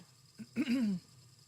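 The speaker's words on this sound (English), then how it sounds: "excuse me if I'm clearing my throat" A single person with allergies clears their throat once, a short rough rasp preceded by a small catch, close and quiet against a silent background.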